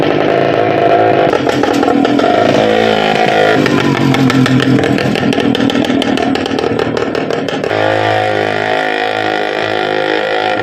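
A homemade motorcycle built from a scrap bicycle in a village, its small engine buzzing and revving loudly and continuously, the pitch rising and falling with throttle before settling into a steady rough drone.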